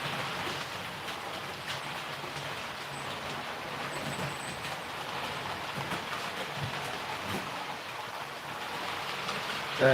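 Model trains, including a Class 47 locomotive, run on a layout. They give a steady, continuous rolling rumble with a faint hiss, fairly quiet and unbroken throughout, and no voices sit over it.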